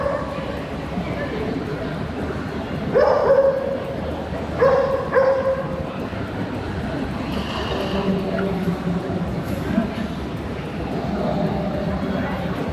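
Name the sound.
dogs barking and whimpering, scared by thunder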